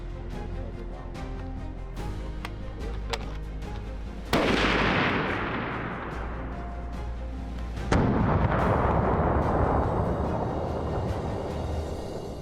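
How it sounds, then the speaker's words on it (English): Two loud rifle shots boom about three and a half seconds apart during a brown bear hunt in Croatia's Velvet Mountains, each cracking sharply and then rolling away in a long, fading echo across open terrain. "Gonna shoot the rifle, see if I can hit anything."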